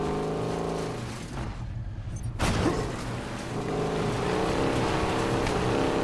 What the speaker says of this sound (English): The drift!